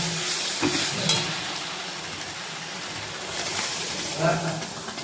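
Continuous sizzling of paneer frying in hot oil with spices, close and steady, with a few soft clinks and stirring sounds, and faint voices in the background.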